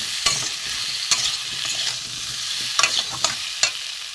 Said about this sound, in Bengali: ভালো করে মশলাটি কষা হয়ে গেছে লঙ্কার গুঁড়ো চিনি দিয়ে এটাও কষে নেবো ভালো করে